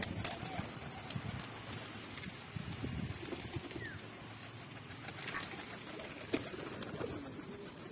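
Black pigeons flying and cooing outdoors among kept pigeons, faint low coos and wing flutters buried in steady ambient noise, with occasional voices in the background.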